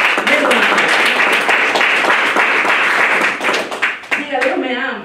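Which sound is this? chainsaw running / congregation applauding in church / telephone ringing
congregation applauding in church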